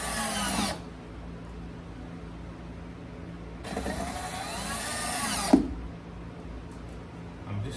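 A power drill drives screws into a tailgate table on a 2021 Jeep Wrangler JL in two whirring bursts, a short one at the start and a longer one midway, with a quiet gap between and no speech.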